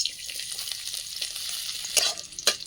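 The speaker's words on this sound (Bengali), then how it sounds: "দেখুন রসুনটা ভাজা ভাজা হয়ে এসছে" A soft, continuous sizzle of chopped garlic frying in oil, with light stirring scrapes and two sharper taps near the end.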